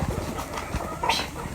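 Racing pigeons take off from a loft with a quick flurry of flapping wings amid outdoor noise, brief and fairly close.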